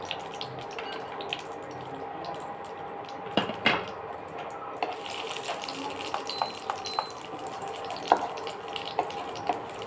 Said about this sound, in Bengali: গরম হয়ে গেছে, আমি 3টে তেজপাতা আর দারচিনি, লবঙ্গ, এলাচ আমি দিয়ে দিলাম।